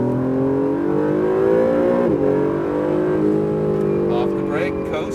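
Acura NSX accelerating on the Exotics Racing track in Las Vegas, a loud engine rising in pitch and holding a strong whining roar, steady and close, as if heard from inside the car.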